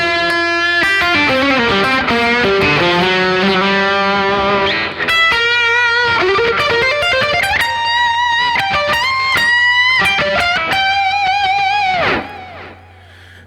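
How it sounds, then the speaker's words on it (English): An electric guitar plays a screaming rock lead tone through a Friedman amp, with loud, distorted, sustained notes, bends and fast runs over a steady low drone, ending with a held note that fades out; no talking. "the third tone that I'll get asked for a lot is like your screaming rock lead tone"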